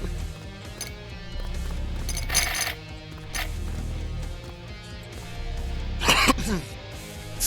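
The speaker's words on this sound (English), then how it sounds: "to clear my throat there a bit." A man clears his throat several times during a Twitch game broadcast, with short harsh bursts spaced across the clip over a low background hum.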